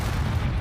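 The Bombarda explosion spell goes off in the video game Hogwarts Legacy as a dense, roaring blast of low rumble that fills the whole short moment at a steady, loud level.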